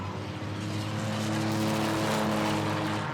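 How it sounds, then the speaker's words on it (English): Race cars on a raceway during an enduro event roar past with a steady engine drone and tire screech, heard at moderate distance and fairly faint. "You can just hear those wheels screech every time they come by in front of the tower."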